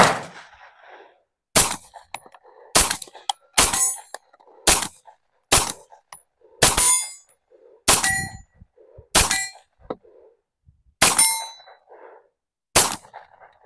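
A Tisas 1911 Carry 9mm pistol fires 115 grain Blazer rounds outdoors, about ten sharp, loud, close shots at a steady, unhurried pace, each followed by a short ringing tail and metallic clinks.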